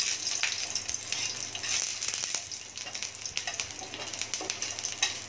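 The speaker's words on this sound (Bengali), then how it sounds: "এখন দিয়ে দিচ্ছি রসুন।" Garlic frying in hot oil, a steady close sizzle with crackling pops and a few light stirring clicks, no voices.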